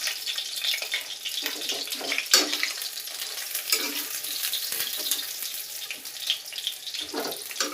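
Fish sizzles steadily in hot oil in a kitchen pan for an Odia fish curry, a continuous bright crackle with occasional louder spits and a brief louder pop, close and alone without talk.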